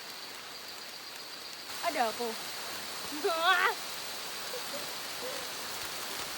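Steady rain hisses softly around hikers on a mountain trail, a constant wash of drops under brief talking voices.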